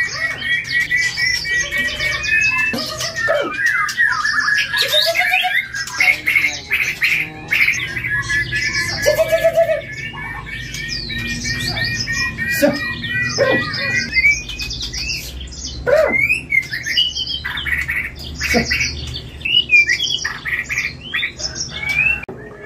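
A magpie-robin sings loudly and close, pouring out rapid whistles, trills and chirps in a long, repetitive run with short pauses and faint background noise.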